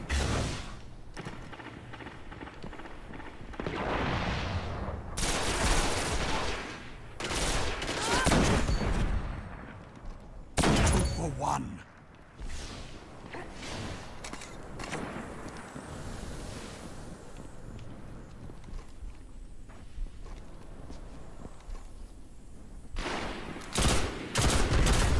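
Gunfire in the Destiny video game during an Iron Banner multiplayer match, with repeated bursts of shots and explosive bangs across a busy, loud mix of game noise and wind-like ambience.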